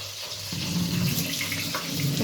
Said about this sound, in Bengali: হাতটা ধুয়ে নিই